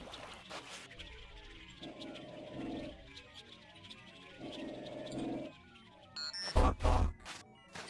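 A robot dog growls in the stealth game Sir, You Are Being Hunted, with low rumbling bursts repeating over a murky ambient backdrop, followed by a louder, sharper burst near the end.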